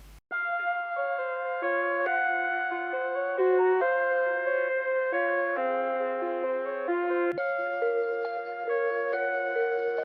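A synth melody pitched down an octave plays steadily, sustained tones stepping through a simple tune with a slight echo, loud and alone with no voices.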